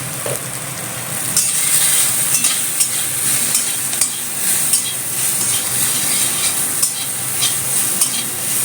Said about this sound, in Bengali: বেগুনটা তাড়াতাড়ি ভাজা হয়ে যাবে